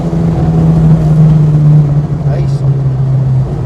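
A warmed-up Vauxhall Corsa Sprint engine pulls steadily under acceleration, a loud continuous drone from inside the car with a low, steady hum throughout.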